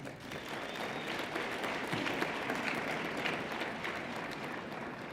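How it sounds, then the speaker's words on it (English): A graduation ceremony audience at the Bloemfontein and Welkom campuses applauds in a steady, dense round of clapping that sounds distant and fairly soft, with no talking over it. "I think we must give them a big round of applause."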